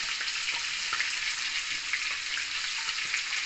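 Onion fries in a pan with a steady, bright sizzle and crackle, close and even throughout, with small pops and faint stirring scrapes, no talk over it.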